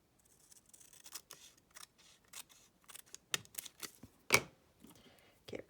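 Scissors snipping through a fabric offcut: a quiet, close series of irregular crisp snips and rustles, with one sharper cut near the end.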